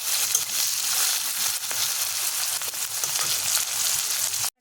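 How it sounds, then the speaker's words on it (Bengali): Slit green chillies fry in a hot pan while being stirred, making a steady, dense sizzle and hiss that stops abruptly at the end. "একটু নেড়ে চেড়ে ভেজে নেব ভালো করে"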